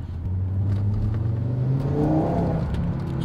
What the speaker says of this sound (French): Oh, le son du 5 cylindres, c'est absolument fantastique.